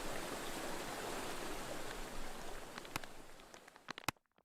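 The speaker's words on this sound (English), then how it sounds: "So that's one of the sounds, kind of ocean loop" Ocean or river water loop from the LOVE-FI LITE plugin: a soft, steady wash of flowing water with a few light crackles, fading out abruptly at the end.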